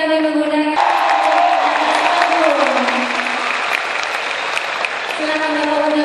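Indoor audience at an entrepreneurship discussion applauding a speaker, dense sustained clapping with some cheering, loud and steady throughout, with brief tones at start and end.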